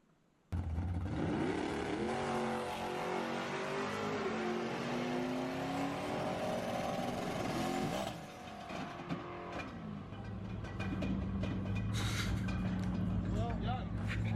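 A boosted race car with a factory 8.8 rear end and weak U-joint launches with a loud rising roar, then the engine note breaks off and changes sharply when the drive shaft fails, followed by rougher noise.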